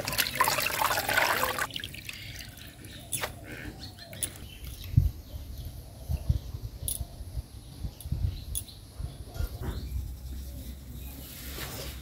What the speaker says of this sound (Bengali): শাক ধুয়ে আনছি